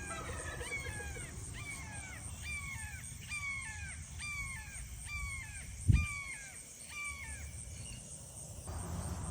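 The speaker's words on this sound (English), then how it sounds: "turkeys and the guineas threw up a signal." A series of about eight harsh, descending alarm calls from turkeys and guinea fowl on a farm in quick succession over a low rumble, with a brief thump partway through.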